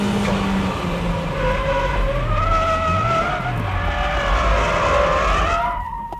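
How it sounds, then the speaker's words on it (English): A race car drifts with understeer, engine roaring and tires skidding and squealing in a sustained, close slide, with pitch sweeping up and down before the sound cuts off abruptly. "That's how you keep control and drift with understeer."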